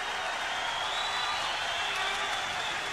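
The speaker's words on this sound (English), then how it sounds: "And this crowd are enjoying this." Boxing crowd at a 1972 Olympic heavyweight bout, a steady broad roar of cheering and applause filling the arena, fairly distant and uniform throughout.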